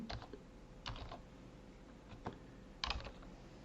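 A computer keyboard typed in short bursts of quick key clicks with pauses between, close and fairly quiet, no talking.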